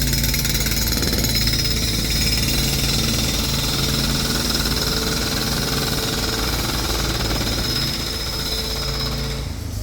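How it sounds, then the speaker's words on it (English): A loud, continuous mechanical drilling rattle runs nonstop without pause, harsh and close, with no talking. "Sorry for the drilling, guys."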